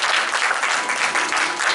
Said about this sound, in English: Let's give them a warm clap.